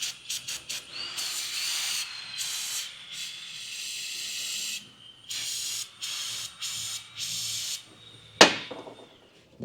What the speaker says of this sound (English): Can you give me a can of brake cleaner, please?